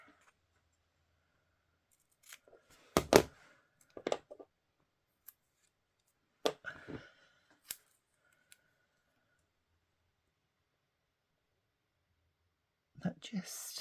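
Scissors cut through paper for a collage, giving a few sharp snips and crisp rustles spaced across a quiet stretch, close and fairly soft, with quiet speech nearby.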